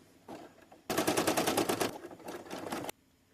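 An embroidery machine starts a tack-down stitch on an in-the-hoop teacher ID badge, hammering out a rapid, steady run of needle strikes for about two seconds before stopping, close and fairly loud.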